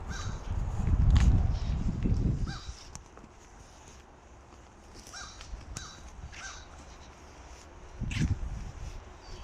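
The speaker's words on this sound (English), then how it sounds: "I hear a bird." A crow caws a few times on a wooded trail, the harsh calls fairly distant and intermittent over low rustling and crunching footsteps, with no talk.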